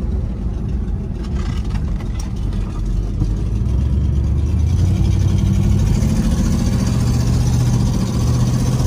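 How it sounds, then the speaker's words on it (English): A 1967 AMC Marlin engine idles steadily up close with a rough, puffing exhaust note from an exhaust leak at the donut gasket, loud and continuous with no voices. "Again, the exhaust leak,"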